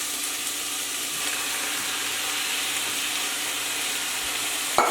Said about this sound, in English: Then you add in your diced tomatoes.